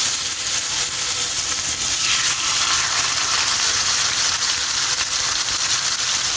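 Chicken steak pieces fry in lightly heated oil in a grill pan over medium heat, giving a loud, dense, continuous sizzle and hiss that stays close and steady throughout, with no talking over it.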